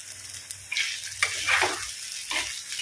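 Masala sizzles and crackles in hot oil until the oil separates, for a mackerel fish curry, with bursts of frying as it is stirred, close and fairly loud, no voices.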